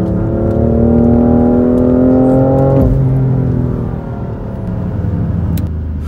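A BMW M3 F80 Competition engine drones steadily while driving, its pitch climbing slowly, then dropping sharply at a gear change before settling into a lower, continuous cabin rumble.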